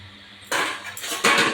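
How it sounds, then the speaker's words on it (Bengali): Fried ribbonfish pieces dropped into a simmering Bengali fish curry in a pan, producing two short, close splashes of sizzling liquid after a quiet start. "আমি এবারে মাছের ঝালের মাছগুলো দিয়ে দেবো"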